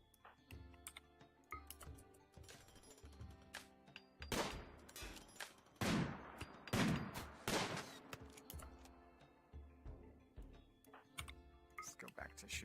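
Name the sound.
gunfire in the video game Rimworld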